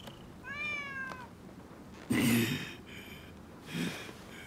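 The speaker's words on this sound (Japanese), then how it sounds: "野良猫が舞い込むとは思わなんだが、良い働きをしてくれたの。" In the video game Rise of the Ronin, a stray cat gives one clear, close meow, followed by breathy snorts and rustling sounds.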